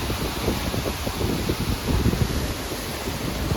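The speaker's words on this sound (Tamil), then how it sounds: "நல்லா சில்லுன்னு காற்று அடிச்சிட்டு இருந்துச்சு" Cool wind gusts across a bridge near Aruvikuzhi Waterfalls, a constant broadband rush with rumbling buffeting on the microphone, steady and fairly loud, with no talking.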